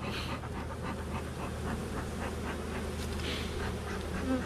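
Honeybees buzz densely around an opened hive during a swarm capture and a robbing situation, a constant close hum with soft rustling underneath.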